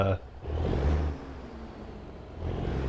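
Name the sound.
International 9900i truck engine with stock sound, video game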